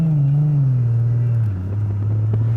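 Engine of a turbocharged Nissan Laurel sedan with a swapped RB25 running under full throttle, a loud close droning hum that sags slightly in pitch partway through, with no talking over it.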